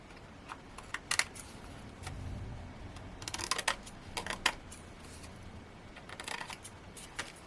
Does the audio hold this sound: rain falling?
no